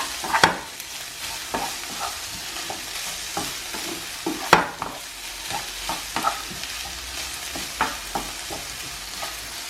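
Spices, ginger and turmeric are mixed in a pan for turkey and broccoli pasta, a constant sizzle of frying with irregular scraping and tapping of a spoon against the pan, no talk.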